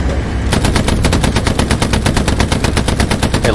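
Sustained automatic gunfire from Hell Let Loose, a dense rapid burst of near, loud shots running continuously after a brief quiet start.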